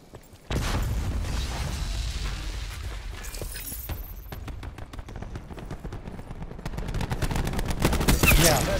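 Gunfire in the Call of Duty Black Ops 4 video game during a Hardpoint match, with bursts of rapid automatic shots and sharp cracks that grow denser and louder toward the end.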